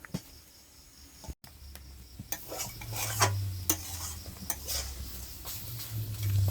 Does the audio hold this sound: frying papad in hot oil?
yes